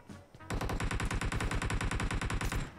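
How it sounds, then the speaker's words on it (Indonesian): Automatic gunfire in the mobile battle royale game PUBG Mobile: after a brief quiet lead-in, a loud, close burst of rapid, evenly spaced shots runs for about two seconds, then cuts off. "Tadi ada tembak di sini"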